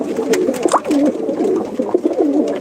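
Pigeons coo continuously in a loft, with soft overlapping rolling coos from several birds at close range and no talk.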